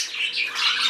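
A flock of budgies with a canary chirps and chatters in a home, a bright, busy twittering close by, with no talk.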